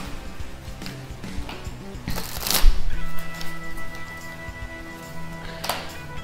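Tarot cards being shuffled for a reading, a close, crisp riffle and flutter of cards with a louder burst in the middle and softer rustling before and after.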